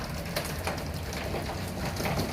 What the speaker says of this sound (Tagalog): it's raining here in Abu Dhabi.